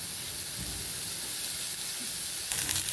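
Onion frying in a little oil in a pan, giving a steady, even sizzling hiss that runs unbroken throughout, with faint clinks near the end.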